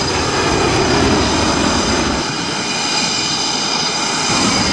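An F-18 Hornet jet roars steadily as it takes off from an airport runway, a loud, continuous engine noise that holds near throughout with no talk.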